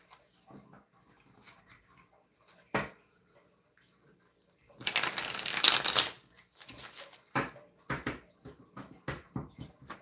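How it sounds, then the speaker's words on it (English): Thin, flimsy playing cards are shuffled by hand, a dense riffling burst of papery flutter followed by scattered taps and snaps as the deck is squared and broken up, close and clear. "cards flying everywhere. I have a hard time shuffling these."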